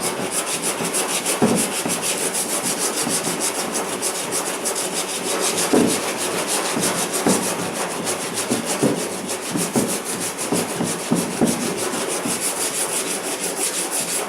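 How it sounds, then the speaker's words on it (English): Sandpaper rubs back and forth on a wooden kayak hull, removing tape, in a continuous rough scratching, close and loud, with steady strokes and occasional heavier scrapes. "we'll take the last tape off with sanding."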